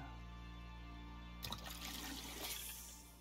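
Water poured from a watering can in the survival game Icarus, a short splashing trickle that starts abruptly after a quiet low hum and runs for a couple of seconds, faint and close.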